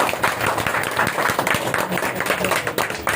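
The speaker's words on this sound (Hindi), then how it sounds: "तो एक बार ताली हो जाए एकदम गड़गड़ाहट के साथ" An audience at an educational results programme in India gives dense, sustained applause that stays loud and even throughout, with no speech over it.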